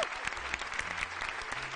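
Steady clapping from a small group of people after a child sings a song, dense and continuous throughout with no gaps.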